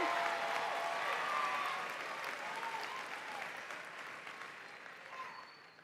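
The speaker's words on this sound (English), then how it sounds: "Let's give one more round of applause for the class of 2026, Valedictorian and Salutatorian." A graduation audience applauds the class of 2026 valedictorian and salutatorian, a dense wash of many hands clapping at once, loud at first and slowly tapering off over several seconds.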